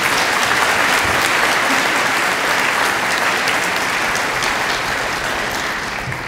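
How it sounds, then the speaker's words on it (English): Loud, dense applause from the audience at an annual scholarship awards program, sustained and even throughout, close and full, with only a gradual slight fade at the end. "would you please join me in giving Gary Hodges of Sunset Studios a round of applause"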